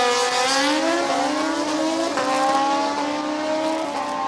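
Kawasaki-powered drag racing machine at the starting line of an NHRA Division 4 event, its engine holding a loud, steady buzzing drone that dips and climbs in pitch as it revs, with no talking.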